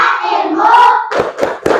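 A group of schoolchildren or teachers in a classroom chants, then claps three sharp, rhythmic beats close up for the tepuk pulang clapping game.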